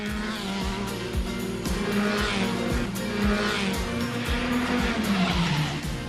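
Race cars roar through the tight, narrow Macau Grand Prix street circuit, engines droning loud and close with rising and falling pitch, tires squealing through corners as several cars pass in quick succession.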